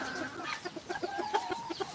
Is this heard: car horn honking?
no